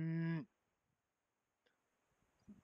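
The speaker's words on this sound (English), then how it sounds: "Hello, cows." Cattle on Azhdahak Mountain in the Armenian wilderness give one loud, close, drawn-out moo lasting about half a second, followed by near silence with faint scattered rustles.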